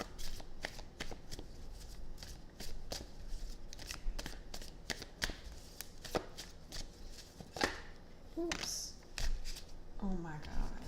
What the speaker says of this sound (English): Let me shuffle this carefully because cards is going everywhere.